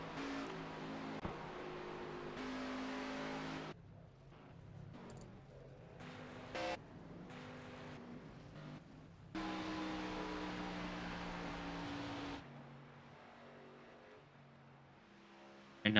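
A field of race cars in a racing video game roars past in long, steady stretches of engine noise that cut in and out abruptly, fairly faint and without talking.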